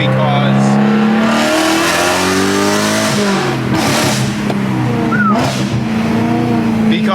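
A BMW E92 M3 with the S65 V8 revs while driving on a quiet road, engine note rising and falling steadily with a few sharper throttle blips, close and loud, with some talk over it.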